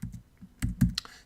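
Code being typed on a computer keyboard for a jQuery project, a short burst of a few uneven close key clicks with no talking.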